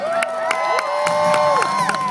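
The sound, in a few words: crowd cheering at BMX bike show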